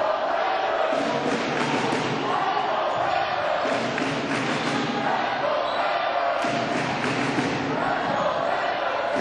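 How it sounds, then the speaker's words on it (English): Crowd cheering in a high school gym during a boys basketball game, a loud continuous roar of voices with surging peaks, heard alongside commentary. "listen to that crowd"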